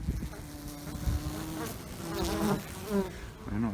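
Honey bees buzzing around a winter hive, a low droning hum with a few louder passes as individual bees fly close, steady and moderately faint throughout.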